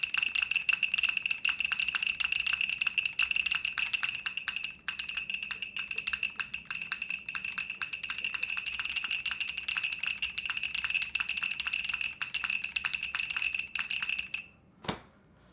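Rapid, continuous typing on a Class80 mechanical keyboard, close and crisp with dense clacking keystrokes, a faint steady ringing tone in the background, ending in a single sharp louder clack.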